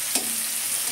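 Salted onions frying in a pan, giving a steady, close hiss of sizzling with a brief stir-like rustle near the start and no voices.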